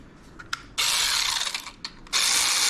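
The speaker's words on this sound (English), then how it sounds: "I do grab my little electric ratchet. It's an 8-volt, and I just snug them up with it" A small 8-volt electric ratchet snugs up the rocker box bolts on a twin cam motor, whirring in two loud sustained bursts, with a few sharp clicks in between.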